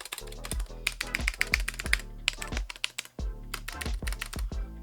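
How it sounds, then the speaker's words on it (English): Typing on a GMMK Compact keyboard with silent red switches, a quick uneven run of close keystrokes with rattly, clacking stabilized keys mixed in, one brief pause midway. "there's a lot of stabilizer rattle here"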